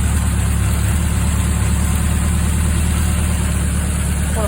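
A Honda CB750A motorcycle engine idles steadily and loudly up close, a continuous low rumble with a fast even pulse and no voices.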